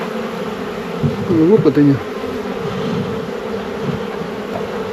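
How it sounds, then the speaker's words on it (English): Bees from a disturbed swarm being moved buzz steadily close by, with a few louder individual passes near the ear and brief speech mixed in. "They are flying everywhere."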